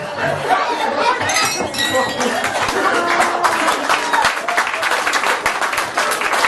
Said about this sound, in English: Sound of applause really helps you relax more with every breath that you take.